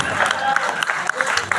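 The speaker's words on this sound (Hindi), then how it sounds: "तालियां हैं यहाँ पर" An audience claps during a Hindi poetry recital by a poet, a brief burst of scattered, close applause mixed with voices.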